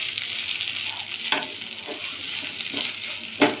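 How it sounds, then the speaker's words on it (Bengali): Spice paste and chilli being stirred into a prawn filling for homemade prawn fingers, giving a steady close scraping, mixing sound over a faint background hiss, with a few sharper clicks of the spoon against the bowl. "এবার এই মশলাটাকে আমি এর উপর দিয়ে দেবো লঙ্কাটাকে দিয়ে ভালোভাবে মিশিয়ে নেব"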